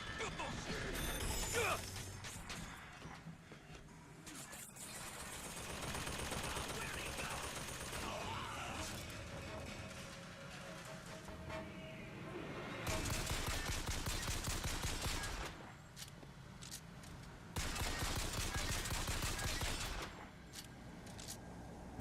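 Rapid gunfire and crashing impacts from a video game, with dense bursts of automatic fire swelling and dropping in waves over a busy mix of game sounds and voices.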